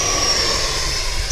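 An FMS F-16 70mm electric ducted-fan RC jet flies by with a steady, loud whooshing roar and a high, thin whine over it, sustained evenly throughout with no talking.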